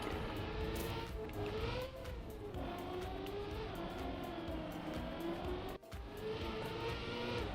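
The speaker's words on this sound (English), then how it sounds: "we have car noise" Steady car engine drone in the racing game Trackmania, pitch rising and falling as it revs and cruises, continuous throughout with a brief dropout near the end.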